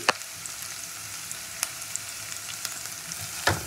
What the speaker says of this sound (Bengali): পেঁয়াজটাকে একটু ভালো করে ভেজে নেব। তো পেঁয়াজটা ভাজতে ভাজতে দিয়ে দেবো আমি আদা কুচি